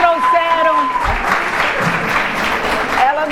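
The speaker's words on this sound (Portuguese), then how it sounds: "Salva de palmas para nossas atrizes." Applause from a church audience at a women's service, cheering the actresses, brisk clapping under a speaking voice that carries over it throughout.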